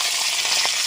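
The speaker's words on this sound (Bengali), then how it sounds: "তেলটা সুন্দরভাবে গরম হয়ে গেছে, আমি মাছের পিসগুলো দিয়ে দেব।" Fish pieces hitting hot oil in a village kitchen pan, a sharp, close sizzle with bright crackling hiss that stays loud and steady through the short moment.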